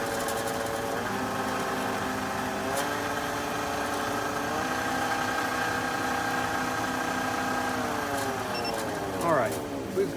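Wood lathe spinning a pen blank on a mandrel saver at 2,000 RPM, a steady mechanical hum with layered whining tones that holds evenly throughout, shifting slightly in pitch near the end.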